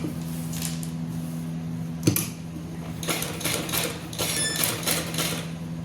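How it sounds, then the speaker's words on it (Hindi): A sewing machine stitches a blouse design up close, a low motor hum under a series of short clicking, tapping bursts. "फिर इससे इस तरीके से सिलाई लगाना है।"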